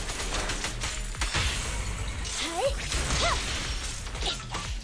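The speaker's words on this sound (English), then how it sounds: "Explosions." Explosions and combat effects from the video game Zenless Zone Zero, with a run of crashing, whooshing blasts and sweeping tonal effects that crowd together over a few seconds under a busy mix.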